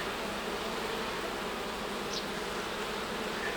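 Honey bees at an alpine beehive: a dense, continuous buzzing hum from many bees, fairly faint and steady throughout, with no talk.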